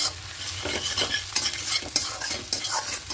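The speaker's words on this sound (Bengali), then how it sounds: "জিরে গুঁড়ো, ধনে গুঁড়ো, লঙ্কা গুঁড়ো আর হলুদ গুঁড়ো দিয়ে খুব ভালো করে কষিয়ে দেবো" Cumin, coriander, chilli and turmeric powders sauté in a hot pan for egg tarka, a steady close sizzle broken by repeated scraping stir strokes, with no voices.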